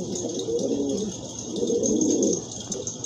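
Pigeons coo steadily at a pigeon farm, close and fairly loud, in two long rolling phrases over a constant background hum, with no voices.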